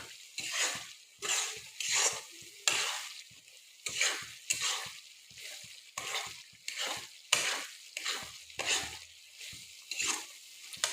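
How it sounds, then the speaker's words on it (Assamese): Chicken and potato curry stirred in a pan, a local-style home dish: repeated close scraping and sizzling strokes in a steady rhythm, each stroke a bright burst over a low frying hiss, with no talking. "দুই মিনিটমান ভালদৰে মজাই লওঁ।"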